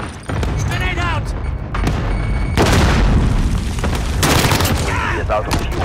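Call of Duty Modern Warfare gameplay with a grenade explosion amid heavy gunfire, loud booms and rattling bursts mixed with in-game voice callouts throughout.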